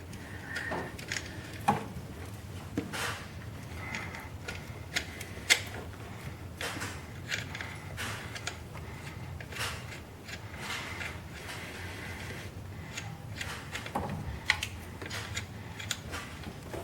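A wrench works on the alternator belt tensioner of a 2013 Kia Rio with a rattle of faint, close metallic clicks and taps spaced irregularly over quiet background.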